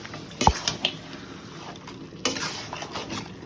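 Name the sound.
stirring mutton curry in a pot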